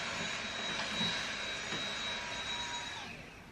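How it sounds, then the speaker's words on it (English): A vacuum cleaner running in a London home, a steady whooshing whine that holds level and then eases off slightly near the end, heard alone without talk. "Oh, vacuuming, nice."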